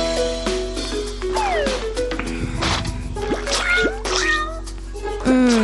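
A cartoon cat meows repeatedly in a cat video game, with high gliding meows recurring over steady, loud game music and soft squishy effects.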